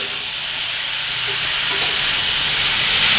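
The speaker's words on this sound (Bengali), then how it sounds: "ফুলকপি আলুটা দিয়ে মশলাটা দিয়ে ভালো করে ভেজে নিচ্ছি" Cauliflower and potato fry with spices in hot oil, giving a loud, steady sizzle and hiss that builds slightly and continues throughout.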